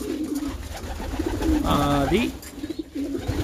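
Homing pigeons cooing, a single throaty rolling coo near the middle, close and fairly loud, with a voice talking before and after it.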